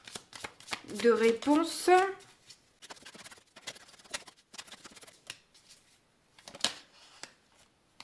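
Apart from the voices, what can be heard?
tarot cards being shuffled and drawn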